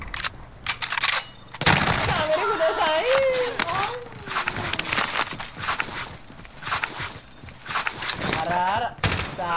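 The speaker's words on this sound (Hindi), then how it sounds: "हमें पीछे से गोलियां पड़ रही थी" Gunfire rattles in from behind in an online shooter game, with short bursts of shots crackling under excited talk from players.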